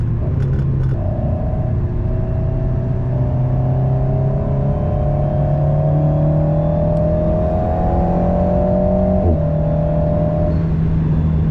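A Legend GT sports car engine pulls hard on a race circuit straight, its loud, close, rising drone climbing steadily before a sudden drop at an upshift, then building again.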